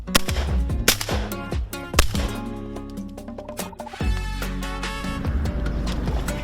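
Shotgun blasts ring out during a cinnamon teal duck hunt, several sharp loud reports in quick succession, with a dense cluster near the start and more shots after a pause, echoing outdoors.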